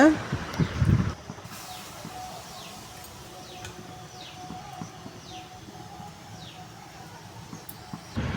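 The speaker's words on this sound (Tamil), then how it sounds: "குருவி கத்துற சவுண்டு பாருங்களேன் நல்லா கேட்குதில்ல" Sparrows chirp in a series of short, high tweets at a distance, following a brief burst of close talking at the start.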